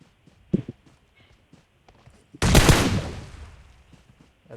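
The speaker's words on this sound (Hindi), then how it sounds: "गलती से गोली चल गई।" A single gunshot fired in the mobile game PUBG Mobile, a sharp loud crack with a decaying tail after a few quiet footstep-like ticks.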